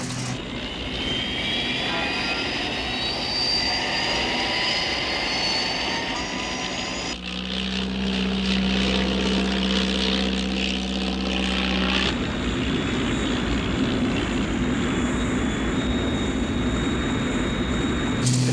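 Jet engines of the Thunderbird 6 aircraft from the 1968 special roar loudly and steadily, with a sharp shift in tone partway through as the engine note changes, continuing without letup and with no talk over it.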